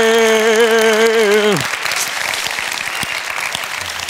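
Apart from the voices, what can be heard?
audience applause after a presentation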